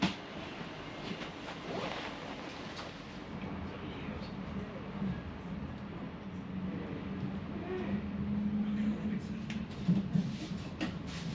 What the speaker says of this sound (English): the train crosses the IJssel on the new Hansebug